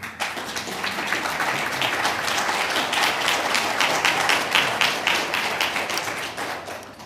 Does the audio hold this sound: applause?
yes